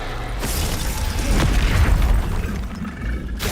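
Bombarda spell explosion in Hogwarts Legacy, an abrupt heavy boom with shattering crackle and rumbling aftermath, then a second sharp burst at the end, loud and without talk.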